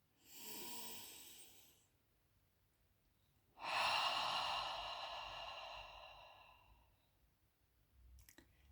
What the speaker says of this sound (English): Take another breath with me.